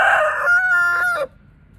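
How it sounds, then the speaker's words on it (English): A blue Andalusian chicken on a farm lets out a loud, drawn-out crow with throaty clucking tones, close by, ending abruptly with nothing after it. "That's a blue Andalusian."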